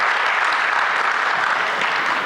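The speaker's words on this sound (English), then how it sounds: "We can't give him one more round of applause, please." Steady applause from an event audience at a Martin Luther King Jr. commemoration service fills the whole moment, dense and continuous without pauses.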